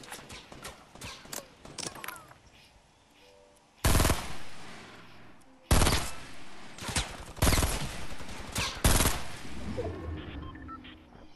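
Gunfire from the Fortnite video game rings out in several loud, sharp bursts, with fainter rapid shots and clicks before them and quiet gaps between volleys. No speech is heard.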